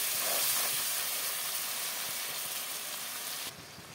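Desi chicken with chopped tomato sautéing in a pan, a steady loud hiss of sizzling oil that holds constant for several seconds before dropping off abruptly near the end.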